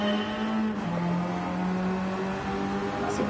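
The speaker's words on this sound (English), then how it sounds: "I think the car sounds awesome as well." Race car in a racing video game, a steady droning engine note holding and shifting pitch slightly, loud and continuous with a faint higher whine near the end.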